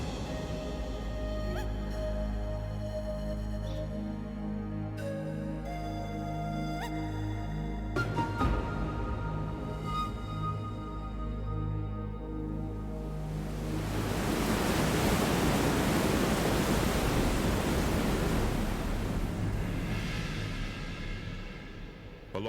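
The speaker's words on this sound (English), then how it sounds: "Here, the Iguazu River plunges into more than 200" The Iguazu River plunges over more than 200 waterfalls, a dense, rushing roar that swells in the second half and holds loud and steady after calmer tonal sounds at the start.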